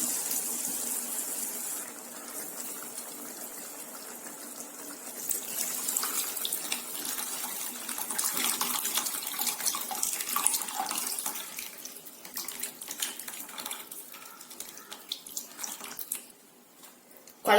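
Tamarind water poured into a pot of curry, a steady gushing, splashing pour that rises in the middle and continues for many seconds before tapering off near the end.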